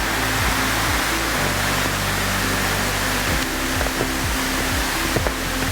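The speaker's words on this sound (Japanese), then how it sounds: "いやーもう水の音がすげえいいっすね" Rushing water near a snowy bridge in Hachinohe, a loud, steady broadband roar of flowing water throughout, with faint intermittent clicks and knocks over it.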